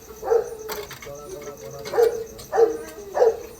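A dog being given its food barks four times, one sharp bark, then a gap, then three more in quick succession, fairly close and loud against a low background.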